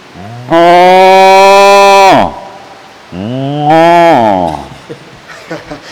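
A man imitates a cow, letting out two long, loud, low moos in a row, close up, with a short pause between them and faint rustling afterward.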